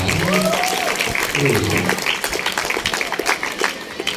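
Audience at an Islamic boarding school graduation ceremony applauds steadily throughout, with a man's speech-like voice audible over the clapping near the start.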